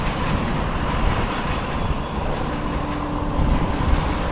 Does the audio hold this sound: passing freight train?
yes